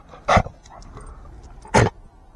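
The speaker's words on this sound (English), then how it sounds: "but you have to excuse the dog." A dog lets out two sharp, close barks about a second and a half apart, with soft whimpering in the quiet between them.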